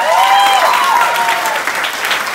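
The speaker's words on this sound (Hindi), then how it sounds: "ताली बनती वेस्टीज के लिए।" Loud, continuous audience applause at a sales training event fills the room, a thick wash of claps lasting the full span with a sustained tonal hum beneath.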